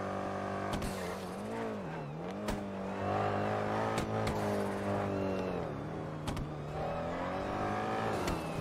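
Car engine in a roleplay driving game, steady hum with rising and falling revs and sharp clicks, driving along at moderate level with no speech over it.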